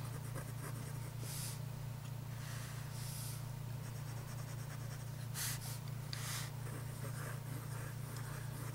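Faint, scratchy strokes of a fine-nib Wancai mini fountain pen rasp across paper in short bursts over a steady low hum, with no one talking.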